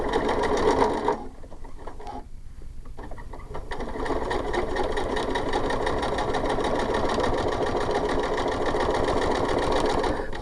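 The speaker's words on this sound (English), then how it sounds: "we're going to sew our binding on raw edge to raw edge with a 1/4 inch seam" A sewing machine stitches quilt binding raw edge to raw edge with a quarter-inch seam, running in a fast, steady mechanical chatter that dips briefly near the start before resuming at full pace.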